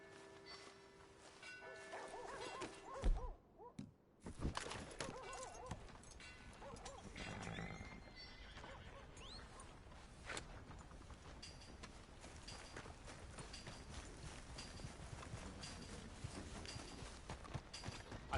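Horse hooves clip-clop steadily in Red Dead Redemption 2 against outdoor game ambience, with a sudden break partway through, a possible dog bark or whinny nearby and occasional faint voices.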